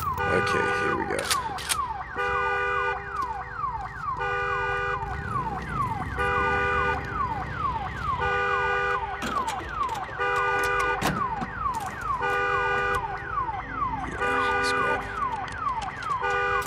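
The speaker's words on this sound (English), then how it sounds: "Damn alarm." An alarm blares in the Days Gone video game, a loud wailing siren-like tone cycling steadily throughout, with rumbling game background beneath.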